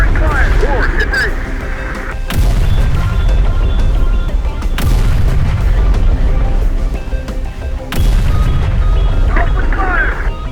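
Gunfire and heavy explosions in the video game Terminator: Dark Fate - Defiance, several loud booming blasts with sharp onsets over a continuous rumble of battle, with voices talking in between.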